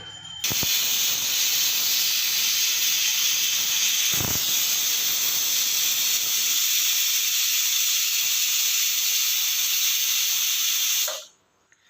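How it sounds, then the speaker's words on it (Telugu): A steady, loud hiss of steam rushing from a pressure cooker valve while cooking country chicken curry, holding for about ten seconds before cutting off abruptly. "ఇప్పుడు కుక్కర్ విజిల్ పెట్టి ఒక 4 విజిల్స్ వచ్చే వరకు ఉంచుకుందామండి"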